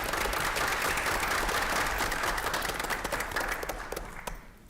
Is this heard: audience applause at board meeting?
yes